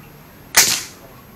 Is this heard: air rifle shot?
yes